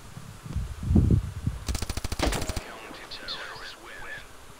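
Automatic gunfire in the mobile shooter Standoff 2 on the Rust map: a loud, rapid burst lasting about a second follows a few low thuds, and a voice talks briefly afterward.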